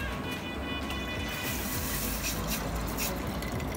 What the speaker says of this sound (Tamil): தண்ணியாக விடுவோம்.